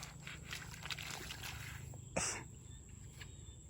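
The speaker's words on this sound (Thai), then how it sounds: "เราได้ยินเสียงกบเสียงเขียด" Frogs call at dusk around rural fields where frogs are caught with hooks. A faint, low, rhythmic croaking chorus runs under a steady high insect drone, with one brief louder call near the middle and no speech.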